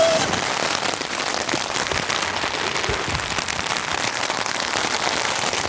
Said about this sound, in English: It would be good if this rain stopped now.